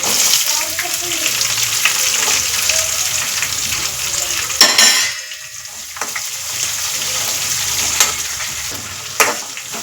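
Onions and curry leaves frying in hot oil in a pan: a loud, close, continuous sizzle that swells, briefly drops away near the middle, then resumes with a few sharp clinks and stirring sounds.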